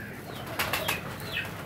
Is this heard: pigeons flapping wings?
yes